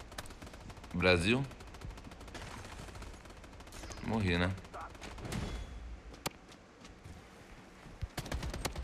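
Rapid gunfire from a first-person shooter video game crackles in bursts, with a couple of sharp single shots near the end, heard close under low background noise while a voice talks briefly.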